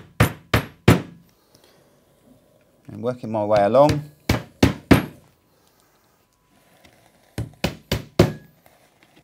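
Sharp wooden taps come in quick groups of three or four, close and crisp, as wooden dowels are tapped into a furniture panel, with a short stretch of speech between the bursts.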